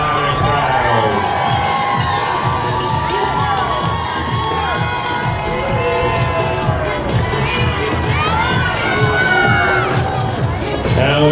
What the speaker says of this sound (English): they're ready to make some noise as they cheer loud and proud